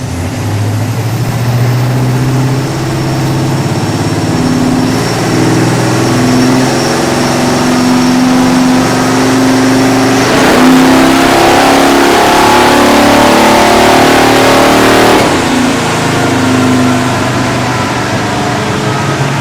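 A car on a chassis dyno during a pull with the air cleaner off, its engine droning loud and close as it revs steadily upward, the pitch climbing and roughening before the run eases off near the end.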